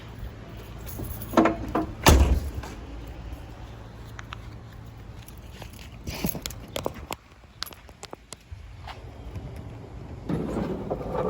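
The hood of a 1979 Oldsmobile Cutlass Supreme Brougham G-body with a 350 small-block is opened. One loud metallic clunk is followed by scattered clicks, rattles and handling noises of varying loudness, with no speech.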